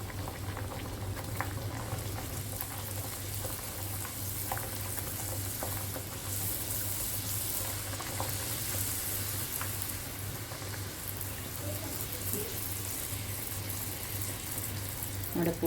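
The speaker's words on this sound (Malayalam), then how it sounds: "ഇനി നമുക്ക് പൂരി ഒന്ന് പൊരിച്ചെടുക്കാം." Puri frying in hot oil for potato poori, a steady bubbling sizzle running continuously and fairly close, with faint stirring and small clicks scattered throughout and no voice over it.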